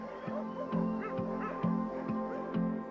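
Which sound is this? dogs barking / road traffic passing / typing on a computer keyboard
dogs barking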